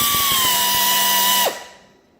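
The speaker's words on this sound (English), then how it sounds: "you can grind through stuff pretty quickly" A grinder fitted with a diamond bit whines at a high, steady pitch, close and loud, with faint ticking underneath, then winds down and cuts off near the end.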